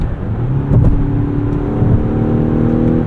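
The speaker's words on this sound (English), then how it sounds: "If you push through the kickdown switch, it'll really rev up high." Engine of a Mazda CX-90 plug-in hybrid revs under kickdown, a steady droning growl that swells slightly and holds a rising tone, heard from inside the cabin, loud and continuous without speech.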